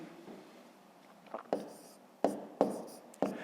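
Pen or pencil writing numbers by hand while working a long division problem, a few soft scratchy strokes and taps spaced out over a quiet background.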